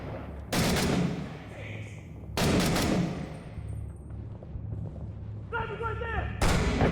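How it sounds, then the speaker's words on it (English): Heavy gunfire in the Six Days in Fallujah shooter, with two loud close booming shots a couple of seconds apart, then quieter distant pops and a final sharp blast. "Is that one of my guys shooting?"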